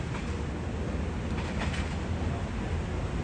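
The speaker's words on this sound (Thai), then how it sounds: "207ปลายทางนครสวรรค์ออกจากบางซื่อแล้วครับ" A passenger train departing Bang Sue Junction rumbles steadily with low, continuous wheel and engine noise, moderately distant, with no talking.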